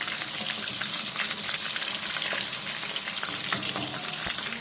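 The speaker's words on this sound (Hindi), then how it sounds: "ये जी हमने इसको ऑयल के अंदर डाल दिया।" Pieces of Lahori-style fish fry in oil over medium heat with a dense, steady crackling sizzle throughout, close and fairly loud, with a faint clink near the end and no talking.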